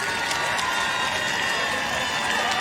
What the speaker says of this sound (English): let's take a second to listen to the noise and the adulation of the crowd as the winner prepares to come home